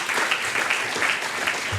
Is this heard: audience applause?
yes